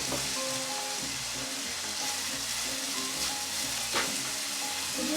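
Onion and garlic sauté in a hot pan for homemade lumpia filling, giving a steady, dense sizzle that runs continuously without letup, close and fairly loud, with no talking.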